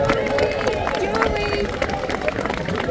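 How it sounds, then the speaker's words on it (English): Crowd applause along a St. Patrick's Day parade route in Fermoy, a continuous outdoor patter of clapping with chatter and babble from the onlookers mixed in. "Big round of applause, folks"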